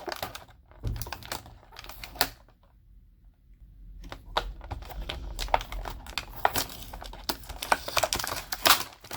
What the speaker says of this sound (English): Watch me struggle with tape